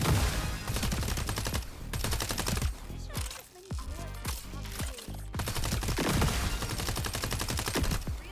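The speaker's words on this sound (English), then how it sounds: "if I'm moving while hip firing," Rapid automatic gunfire from a video game weapon hip-fired while the player moves, loud dense bursts of shots with brief pauses between strings, continuing over a game music bed.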